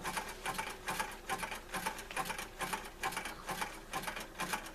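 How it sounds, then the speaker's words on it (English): A sewing machine zigzag-stitches ecru thread along a small artisanal basket, a close, rhythmic mechanical chatter pulsing in quick regular bursts throughout with no talking. "Put the little basket under the foot. We're going to go back in line to where we're just beyond the opening, and we are going to zigzag."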